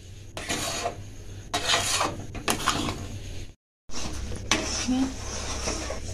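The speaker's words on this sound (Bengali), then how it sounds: "দিয়ে এটা নাড়তে হবে, কন্টিনিউ নেড়ে যেতে হবে।" Chandan payesh mixture is stirred in a pan over a high flame, with rasping, scraping strokes against the pan that come in bursts, then a brief silence before the stirring resumes.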